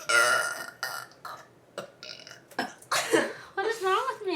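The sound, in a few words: person burping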